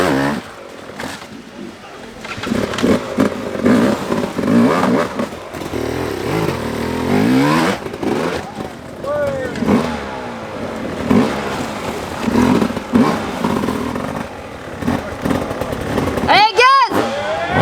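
Enduro motorcycle engine revving in a rough off-road setting, throttle rising and falling repeatedly with rasping bursts, close and loud, with spectators shouting encouragement over it and a sharp high rev near the end.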